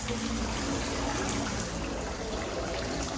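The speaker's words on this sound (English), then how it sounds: "And the feature I like a lot is this water fountain." Steady, dense rush of a water fountain splashing continuously at the Grand Floridian resort, Walt Disney World, close by and fairly loud, with no voices.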